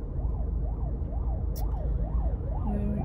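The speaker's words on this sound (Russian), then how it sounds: "вот этот вот звук сирена" An ambulance siren on the streets of Pyatigorsk wails in a steady rising-and-falling cycle, somewhat distant, over low road rumble, with a short sharp click midway.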